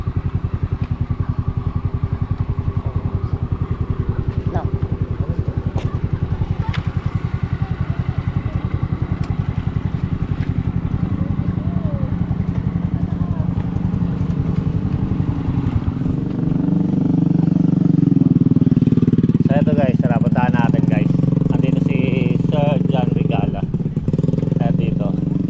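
A motorcycle engine runs steadily close by, a continuous loud putter that shifts to a heavier, rougher drone partway through, with people talking over it.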